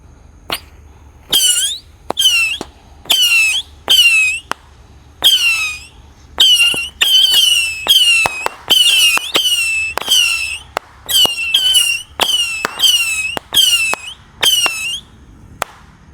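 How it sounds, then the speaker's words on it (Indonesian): A 25-shot rocket box of missile fireworks fires one whistling rocket after another at night. Each launch gives a sharp shrieking whistle, packed in a fast irregular volley with brief gaps, loud and close, with no talking. "ada rocket box missile 25 shot guys"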